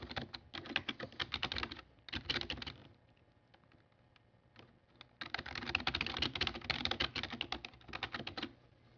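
Rapid clicking keystrokes on a computer keyboard come in busy bursts with a short lull in the middle, close and fairly quiet, with no voices over them.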